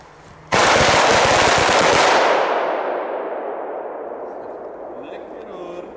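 A sudden burst of heavy fireworks erupts, a dense crackling volley that rings out for a couple of seconds and then fades into a long echoing decay, with faint voices at the end.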